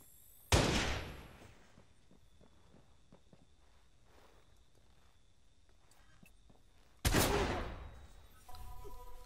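Gunfire in the Watch Dogs video game: two loud, sharp blasts several seconds apart, each with a decaying tail, and scattered faint clicks and light footstep-like taps between them.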